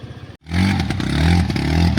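A motorbike engine revs hard and steadily while stuck in silt on a riverbed, a loud close roar with rising and falling pitch that starts after a brief cutoff and runs unbroken to the end.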